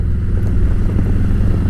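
A 2017 Harley-Davidson Road King with a Milwaukee-Eight 107 V-twin rumbles at close range, a loud, steady low throb with no voices.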